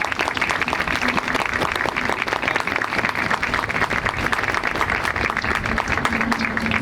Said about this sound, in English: Let's give our First Lady another round of applause.